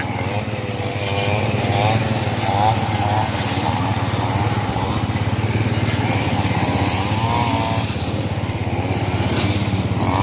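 Small two-stroke engine of a grass trimmer runs steadily and loudly throughout, buzzing with a high whine, during village road clearing for an end-of-Buddhist-Lent festival, with people talking underneath.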